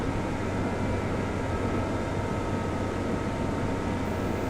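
A tractor engine in Farming Simulator 25 drones in a steady, unbroken low rumble with a constant hum, close and even in loudness throughout, with no talking.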